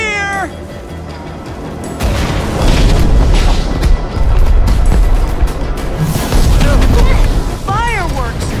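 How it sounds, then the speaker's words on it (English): Fireworks in the video game Minecraft Story Mode burst with loud, sustained booming crackle, framed by wavering, cat-like tonal cries at the beginning and near the end. "Fireworks!"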